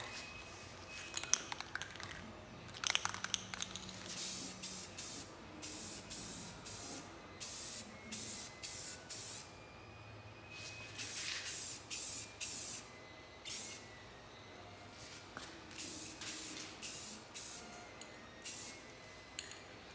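Aerosol spray paint applied in repeated short and medium bursts onto a 3D-printed Power Rangers Samurai Red helmet, black coat, each hiss stopping and starting with brief pauses, close and steady.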